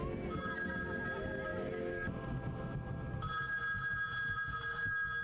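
A loud telephone ring from the video game Copycat blares continuously and shrilly, with a brief dip in its bright tone partway through before it resumes at full volume.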